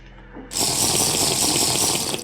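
A faucet in the Minecraft Furniture Mod (1.7.10) turns on and runs with a steady, loud rush of water for about two seconds, then cuts off abruptly.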